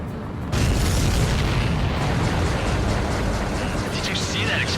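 A loud, sustained roar and boom from an enemy aircraft exploding in the Ace Combat 7 flight game, starting abruptly and holding as a dense, rumbling blast under a faint voice.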